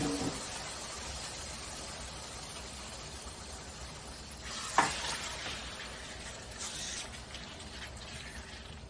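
Chicken breast pieces frying in hot oil in a pan, a steady close sizzle and crackle throughout with a brief louder hiss and spatter midway as pieces are added or moved.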